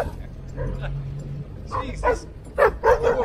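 Several dogs bark and yip in short, sharp bursts that grow louder and more frequent toward the end, over a low vehicle rumble.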